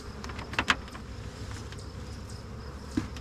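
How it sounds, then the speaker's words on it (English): Honey bees buzz around a hive during a swarm, a faint steady hum with a few louder close passes of individual bees outdoors, no voices. "Okay, look out, bee."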